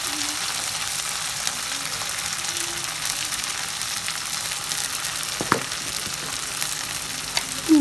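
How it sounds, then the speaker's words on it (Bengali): Ginger and garlic paste frying in oil in a pan, a steady close sizzle with occasional small scrapes of stirring. "আদা বাটা রসুন বাটাটা আমি একটু ভেজে নিচ্ছি"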